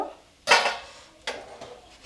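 A metal pan lid is lifted off while chana dal cooks, giving two sharp clinks about three-quarters of a second apart, each trailing into a short ringing decay at moderate loudness, with no talk.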